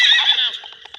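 Horse neighing in the Relive 1776 video game, a bright whinny that trails off into a few quieter snorts and clops, heard clearly with no talk over it.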